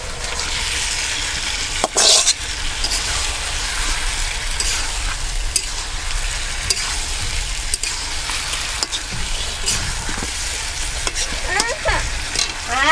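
Steady sizzling of fried onions with turmeric and chili in a hot pan, with occasional scraping and stirring clatter, continuous and close.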